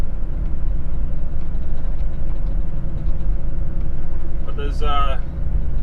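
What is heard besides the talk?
truck engine climbing a hill in low gear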